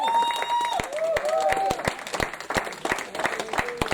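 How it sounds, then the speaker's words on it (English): A congregation at a church service claps for Jesus, a lively round of rhythmic claps from a crowd, while a voice sings or calls out over the top near the start. "I said clap well for Jesus."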